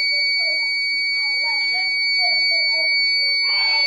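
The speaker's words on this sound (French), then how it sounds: "le buzzer va sonner de plus en plus fort" A shrill electronic buzzer sounds continuously at a steady pitch while a person talks underneath it.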